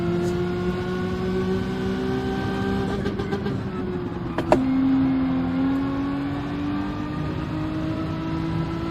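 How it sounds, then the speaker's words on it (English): Race car engine in Gran Turismo 7 held at the rev limiter, a steady buzzing drone with stacked engine tones that bounce slightly, a sharp click near the middle, then the pitch drops and a lower steady hum carries on alone. "hit rev limiter again"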